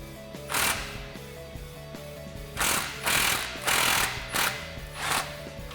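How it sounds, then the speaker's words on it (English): A 15mm socket on a power tool tightens an exhaust clamp on the extension pipe of a Roush single exhaust system under a Ford F-150. Six short, fairly loud whirring bursts sound over a steady musical background. "Now we can slide our clamp into position and loosely tighten this down with a 15mm socket."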